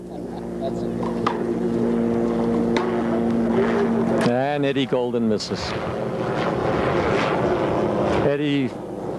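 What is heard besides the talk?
helicopter flying overhead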